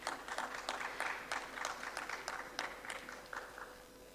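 An audience at the World Petroleum Technology Congress 2022 claps to welcome a speaker on stage, a modest round of applause with distinct individual claps that starts strong and slowly thins out.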